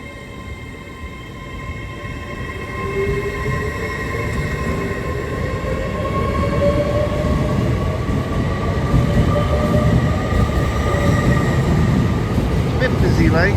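LNER passenger service bound for London King's Cross, unit 801 201, rumbling steadily through Darlington station with a sustained engine drone, faint rising and falling whines and a low rolling roar that builds gently and stays continuous.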